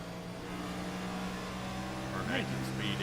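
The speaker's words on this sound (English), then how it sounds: "It sounds like it's tacking it out before he's able to shift." NORA race car at Iowa with its engine banging off the rev limiter before an upshift: a steady, loud engine drone with a rising whine toward the end, heard under commentary.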